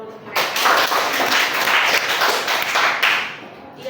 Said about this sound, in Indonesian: Kita beri tepuk tangan dulu untuk mereka.